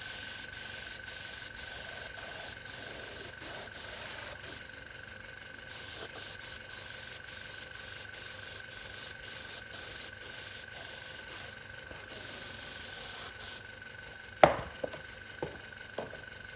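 Bursts of steady hissing spray, several seconds each with short pauses between, close by, ending with a few sharp knocks. Leather dye sprayed onto a car's leather door card.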